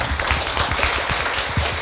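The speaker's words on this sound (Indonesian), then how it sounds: "Tepuk tangan." Seminar audience applauding at a traditional Chinese medicine and BaZi gathering, a steady wash of clapping through the short stretch with a few low thumps underneath, fairly close and even in level.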